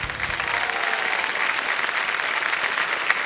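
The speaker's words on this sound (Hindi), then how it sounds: "तालियां बज जाएं इनके लिए।" A studio audience on the KBC quiz show applauds for a contestant, with steady, full clapping that holds at an even level through the whole stretch and no speech over it.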